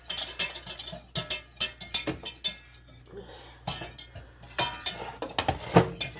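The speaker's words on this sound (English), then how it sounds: "And all we're going to do is keep stirring until it thickens to the thickness that you like." A utensil stirs chicken gravy in a pan, making close, irregular metallic clinks and scrapes in a busy, uneven rhythm, with no talking.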